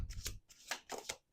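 A deck of oracle cards being shuffled by hand in a quick riffle, three or four crisp flurries of papery slaps and rustles separated by short pauses, close and clear with no talking.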